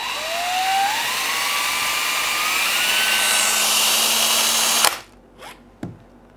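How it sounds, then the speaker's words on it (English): A power drill whirs steadily at high speed, spinning a 3D-printed plastic turbofan model at about 2000 RPM, its pitch rising as it spins up, then cuts off abruptly, leaving a few faint clicks and rattles. "so that's as fast as the drill goes, and I think that's about 2000 RPM"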